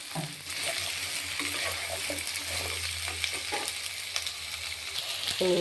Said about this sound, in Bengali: এটাকে আমি ভালো করে লাল লাল করে কষিয়ে নেব